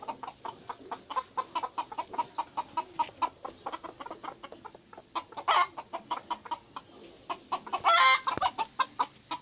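Chickens and roosters cluck in a rapid, steady series of sharp calls close by, with a couple of louder squawking bursts standing out partway through and near the end, with no talking.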